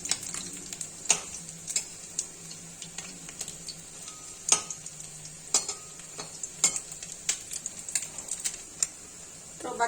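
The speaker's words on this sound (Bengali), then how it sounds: "এবার বড়াগুলো আমার সম্পূর্ণ ভাজা হয়ে গেছে।" Mourala fish fritters fry in a pan with a steady, close sizzle broken by sharp, irregular crackles and pops, with no one speaking.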